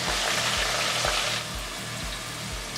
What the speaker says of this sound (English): And we'll let them fry right up.